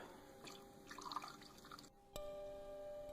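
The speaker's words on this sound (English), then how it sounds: "got our pipes all set up, and let's pour the water" Water poured through the heater core pipes of a 2003 Ford Taurus trickles and drips faintly, followed by a thin, steady ringing tone.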